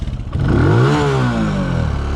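A small motorcycle engine, either a Honda Grom or Benelli TNT 135, revs up high, its pitch sweeping upward then settling into a loud sustained buzzing whine close by.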